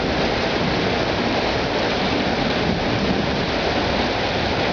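Heavy rain pours down steadily, a loud and continuous broadband roar with no breaks and no voices, as if hammering on nearby surfaces.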